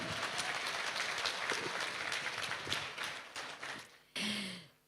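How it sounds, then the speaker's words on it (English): A large audience at the Oppo Reno 2 launch event applauds steadily for about four seconds, then the clapping drops away and a brief breathy sound follows. "A big round of applause, ladies and gentlemen."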